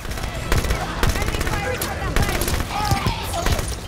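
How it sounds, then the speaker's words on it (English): A submachine gun fires continuously in the video game Halo 5. The rapid, dense gunfire is loud and close and lasts throughout, mixed with other in-game combat noise. "this submachine gun rocks"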